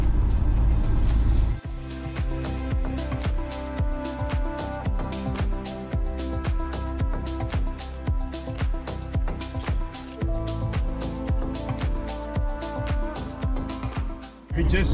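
A camper van drives along a road in Korea with its windows open, giving a steady, close rumble of engine and wind, broken by frequent short knocks and thumps from the road.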